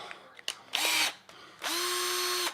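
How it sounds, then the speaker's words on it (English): A power drill whirs up in two bursts, a short spin followed by a longer steady run while boring a fine hole, preceded by a few small clicks and handling knocks. "And drill a fine hole."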